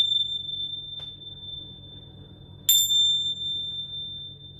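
Small handheld bells ring over tarot cards, a steady high tone sustained throughout with a faint strike near the start and a brighter, louder strike later that rings out and slowly fades.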